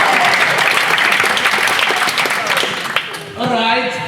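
An audience at a spoken-word poetry session applauds itself, loud dense clapping and crowd noise filling the room, giving way at the end to a voice speaking.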